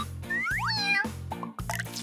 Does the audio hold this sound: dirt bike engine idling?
no